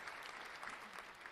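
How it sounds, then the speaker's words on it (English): A crowd claps briefly on a podcast, a soft, distant, continuous patter of applause with no voices over it. "let's clap that up too"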